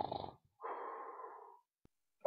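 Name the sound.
person imitating snoring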